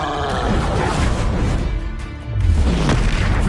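A Confringo fire spell cast in Hogwarts Legacy bursts in a heavy booming explosion, with a second blast rumbling in after about two seconds, loud and close amid dense game effects.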